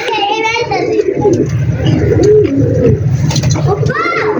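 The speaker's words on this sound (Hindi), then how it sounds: "ये है कबूतर" Pigeons cooing repeatedly in soft low bursts on a rooftop, with children's voices and chatter over them nearby.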